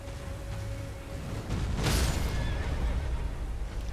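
A horse whinnies in Elden Ring: a high, wavering neigh rises over steady game ambience and a low rumble, swelling through a brief bright burst midway, at moderate distance.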